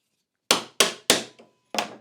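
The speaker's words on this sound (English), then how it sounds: "couple of hits with a hammer and it's out" Four sharp hammer blows tapping a dowel out of a clamp, three in quick succession and a fourth after a short pause, striking hard with metallic ring and fast decay.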